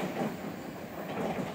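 An Odakyu rapid express train pulls away from a station with a steady rumble and wheel clatter. The broadband rolling noise stays fairly constant and moderately close.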